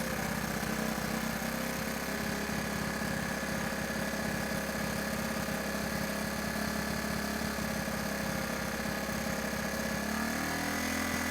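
A Honda ATC 110 three-wheeler engine idles loud and close, a steady buzzing putter that shifts and settles slightly near the end as the idle is adjusted.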